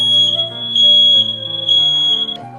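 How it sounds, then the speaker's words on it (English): A smoke alarm being tested sounds a shrill, high electronic tone in repeated pulses, loud and clear over soft background music. "Be sure to test all smoke alarms in the house."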